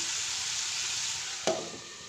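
Chili curry sizzles in a pan with a steady bright frying hiss, then a single stirring scrape clatters briefly near the end, close and without talk.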